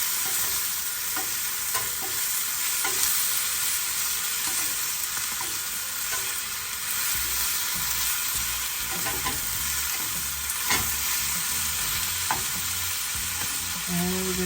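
Bok choy and noodles stir-fry in a pan in a camper's kitchen, a steady loud sizzle running throughout with scattered scrapes and clinks of the utensil against the pan.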